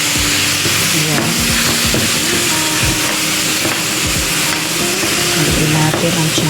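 Chicken pieces sizzling loudly in a hot pan while being stirred, with a dense, continuous frying hiss broken by repeated scraping strokes throughout.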